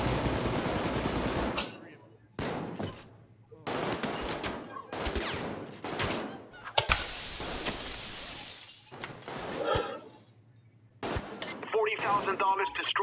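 Gunfire and shattering glass in the heist video game Payday 2, loud bursts of shots in several separate volleys with brief gaps, mixed with breaking glass and busy game sound effects.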